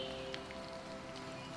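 Steady rain patters on a surface in a quiet outdoor setting, a soft continuous hiss with occasional faint drop taps, heard alone without voices.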